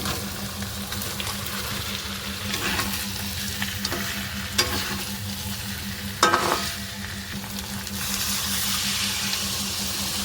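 Potatoes added to a spice paste frying in oil for a spicy potato dum, a constant sizzle with stirring clatters and a couple of sharp knocks of a utensil against the pan.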